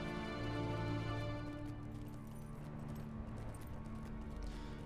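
Faint, steady hoof clip-clops of a horse in the Lord of the Rings Online video game, soft and rhythmic beneath a low humming background.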